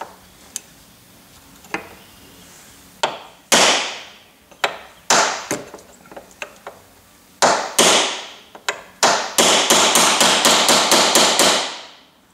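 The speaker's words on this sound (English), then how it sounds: "I take a chisel, and I get up underneath the stop of the pin and I hammer on until it comes down." Metal-on-metal hammer blows striking a chisel to drive out a pin on a Honda Odyssey power sliding door, sparse at first then growing into a rapid, ringing series of loud, close strikes.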